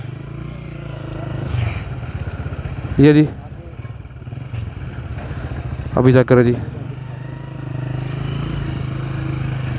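A tractor engine runs at a road construction site with sand and concrete being loaded, a steady motor drone throughout with clattering bursts, under a voice.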